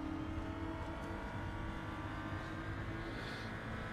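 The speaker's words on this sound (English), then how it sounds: "I'll turn up the car sound after this lap" A race car engine in the RaceRoom Racing Experience driving game holds a steady, faint drone at low volume for the whole stretch, with no voices.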